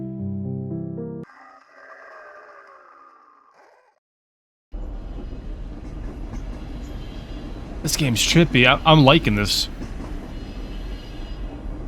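A subway train rides along in a psychological horror video game, a continuous rolling rail rumble with a burst of bright wheel squeal midway, following a short stretch of tonal music and a brief silence; someone talks over it.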